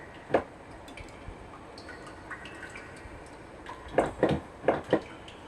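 Water drips in the horror video game Home, one drop early then a quick cluster of four sharp drips near the end, crisp against a quiet ambient background.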